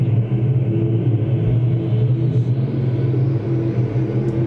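Race cars roar around a speedway during a heat race, a loud steady engine rumble and drone from a passing field of cars.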